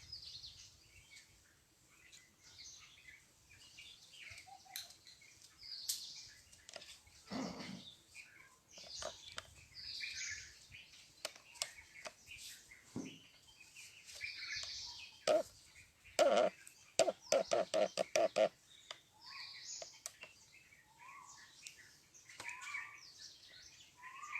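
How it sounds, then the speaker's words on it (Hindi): Koel and other birds call and chirp around an ashram in Faridabad, scattered tweets and repeated calls over a quiet outdoor backdrop, with soft voices at times. "कोयल की आवाज़, पक्षियों की आवाज़ सुनाई पड़ रही होगी आपको"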